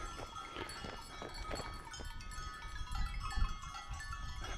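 Many goat bells clank in irregular, overlapping rhythm from a herd of goats on a mountain trekking trail, at moderate distance, with occasional faint bleats and no clear talk.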